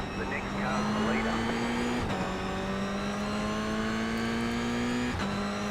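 Loud in-car engine of a Toyota GR86 race car during a race, holding steady high revs that climb gradually, broken by two quick gear shifts, with a continuous roar close up.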